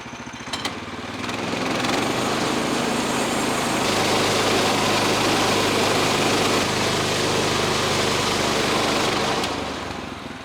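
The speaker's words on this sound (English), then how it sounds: "So I'm going to go ahead and just slab it out." An engine-powered saw slabs a log from a standing dead cherry tree, a loud, steady engine roar that rises as the cut begins, holds for several seconds and then drops off.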